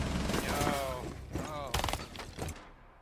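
Gunfire in Rainbow Six Siege as a player shoots out a camera, a few quick bursts of shots spread across the moment under game noise and talk.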